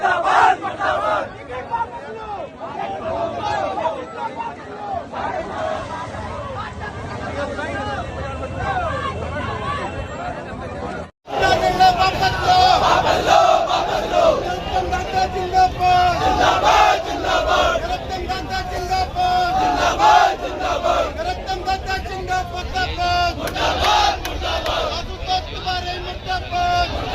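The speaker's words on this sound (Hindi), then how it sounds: "नरोत्तम मिश्रा के समर्थकों द्वारा लगातार की जा रही है नारेबाजी" A large crowd of BJP workers supporting Narottam Mishra chants slogans in unison during a street protest and road blockade in Datia. The loud, sustained chanting is briefly cut off midway, then resumes amid shouting and traffic.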